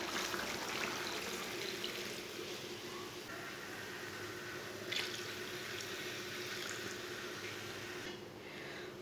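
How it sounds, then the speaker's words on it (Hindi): Water from two glasses is poured into a pot of cooking goat meat, a steady splashing rush lasting several seconds at close range, with faint background noise. "अब 2 गिलास पानी डाल लेंगे।"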